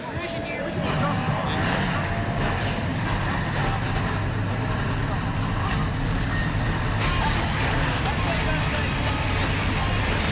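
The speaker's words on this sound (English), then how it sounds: "High-powered stock cars are fired up, and we're about ready to go racing from the Tricky Triangle." ARCA Racing Series stock cars idle together at Pocono Raceway, their engines making a dense, continuous loud roar. A voice is heard over the engine noise.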